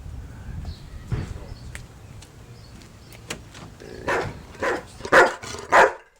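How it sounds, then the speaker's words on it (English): A dog barks several times in quick succession near the end, loud and close, after quieter background noise and someone speaking. "Dylan, you deaf dog, get down."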